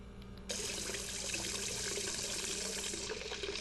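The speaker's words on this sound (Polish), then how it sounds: "Potrzebny wam jest czajnik, który macie w domu. I potrzebujecie po prostu podejść do kranu." Running tap water filling a kettle at a sink in the video game Hello Neighbor, a steady close splashing gush that starts abruptly and continues without speech.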